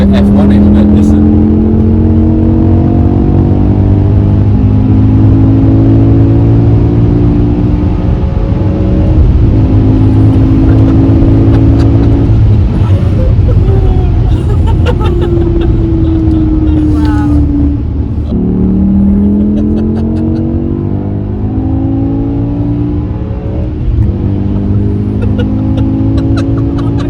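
A BMW E61 M5 estate's engine revs hard and loud, rising and falling in long sweeping climbs with gear-change dips, dominating throughout, with a voice speaking briefly over it.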